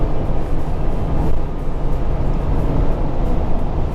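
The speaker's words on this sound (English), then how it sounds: "But God, I hate these Continental tires. They're so noisy." Continental tires on a Mercedes-Benz C300 with sport suspension give off a constant, loud, low roar of road noise from inside the cabin, with no talking.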